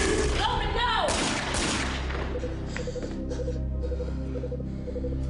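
Gunshots in a TV police drama scene: a few sharp, loud cracks early on, then a lower sustained tonal bed with faint breathy sounds carrying on after.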